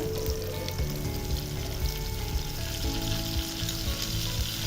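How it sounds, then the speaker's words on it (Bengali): Onion and garlic paste fry in soybean oil in a pan, giving a dense, continuous sizzle with crackles and occasional faint clinks, close and steady throughout. "তিন টেবিল চামচের মতো সয়াবিন তেল দিয়ে দিলাম দিয়ে দিচ্ছি দুটো পেঁয়াজ কুচি এরপর দিয়ে দিচ্ছি এক টেবিল চামচ রসুন বাটা"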